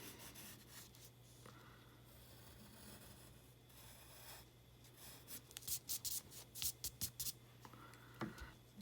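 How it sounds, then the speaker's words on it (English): A pencil drawing of a landscape is erased with quick, soft rubbing strokes, faint and close, coming in short bursts that grow busier toward the end over a low steady hum. "I'm going to erase through the things that I overlap."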